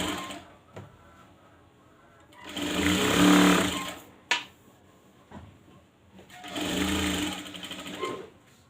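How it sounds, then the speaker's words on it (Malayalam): A sewing machine stitches a churidar top in short bursts of rapid whirring, loud and close, separated by pauses with small handling knocks and a sharp click between runs. "മടക്കി അതിൻ്റെ അടിച്ച് നോക്കട്ടെ."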